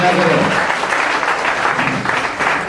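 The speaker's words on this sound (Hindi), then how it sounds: "ताली बजाने भाई" An audience at an award ceremony for a company branch in Bareilly applauds steadily and densely, with a voice speaking over the clapping near the start.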